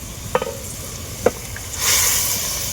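Fried eggplant pieces drop into a simmering yogurt curry in a pan, two soft wet plops followed by a rising sizzle and bubbling, close and moderately loud with no talk.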